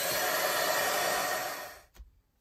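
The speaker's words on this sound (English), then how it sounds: "I'm going to give that a quick blast with my heat gun" A heat gun blows a steady, loud broadband whoosh across a painted art journal page to dry it, running for nearly two seconds alone before cutting off abruptly, followed by a faint soft knock.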